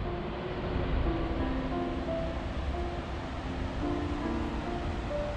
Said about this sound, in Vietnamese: Cái này không phải thác nước mà là cái dòng nước nó chảy ấy.